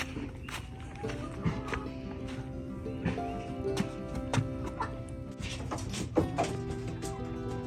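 Hens clucking and shuffling inside a homemade DIY backyard chicken coop, with repeated short clucks and calls scattered through the clip over a steady, close background of movement.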